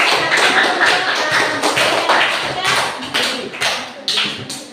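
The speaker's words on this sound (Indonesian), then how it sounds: "Kepada teman-teman dari kelompok lain kita memberikan aplaus kepada kelompok" A classroom group claps for the first student group, a brief burst of scattered hand claps and taps over the room's murmur, with a voice speaking alongside.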